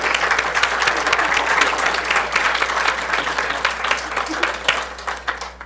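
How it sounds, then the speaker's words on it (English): A high school quiz competition audience applauds both teams after a close final match, a dense, sustained round of clapping filling the hall, loud and even with a slight taper at the end. "How about a big round of applause for both these teams?"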